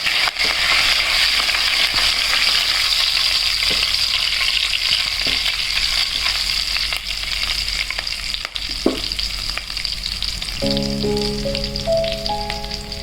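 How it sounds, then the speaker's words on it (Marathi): Curry leaves frying in a pan as they are stirred toward a brown colour, a loud continuous sizzle and crackle with occasional scraping knocks; a brief tonal beep sequence comes near the end. "थोडासा कढीपत्ता, छान त्याला हलवून घ्यायचं आहे। तांबूस रंग येईपर्यंत त्याला व्यवस्थित हलवायचं आहे."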